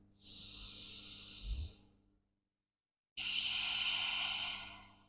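Two long, deep breaths out during a yoga pose, each an airy rush at close range, the first with a faint throaty catch, separated by about a second of silence.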